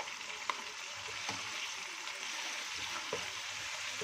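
Chicken mince frying in a pan with garlic and ginger, a steady soft sizzle with a few light clicks of stirring, close and continuous with no talk.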